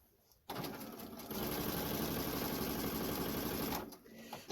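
A sewing machine stitches quilt pieces together for New York Beauty free-cut piecing, starting abruptly and running at a fast steady whir, picking up speed after a second, then stopping near the end; close and alone.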